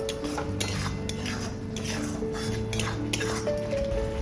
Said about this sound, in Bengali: এর মধ্যে ফেটিয়ে রাখা দু চামচ টক দই দেবো আর একটু মশলাকে কষিয়ে নেব